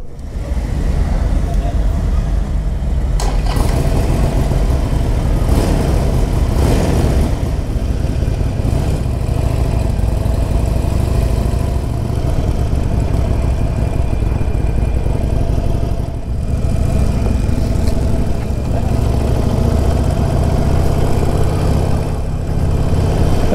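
A 2021 Harley-Davidson Sportster 48 1200 on a test ride, its engine rumbling loud and steady throughout with shifting revs and strong wind and road noise around it.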